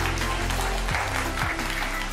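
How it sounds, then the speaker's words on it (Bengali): A studio audience at a Holi special family game show claps loudly in a dense, continuous burst, with a musical tone sounding underneath. "জোরে হাততালি।"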